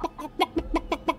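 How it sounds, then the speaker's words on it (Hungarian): A chicken clucks in a chicken-themed horror video game, about seven short, evenly spaced clucks in a steady rhythm. The clucks are close and fairly loud, with no talk over them. "Csirkés Outlast, testvéreim. Ahol üldözőbe vesz minket ez a gyönyörű jószág."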